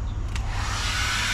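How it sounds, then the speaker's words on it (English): A hair dryer blows dust out of a kayak under repair, a steady, loud, airy whoosh that runs unbroken through the short moment. "Okay, so now we need the hair dryer, which is here. This should blow the dust out."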